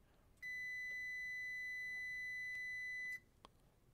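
Multimeter continuity tone as a vacuum-operated switch closes under light suction on its hose, a single steady electronic beep lasting close to three seconds, clear and close, followed by a couple of faint clicks.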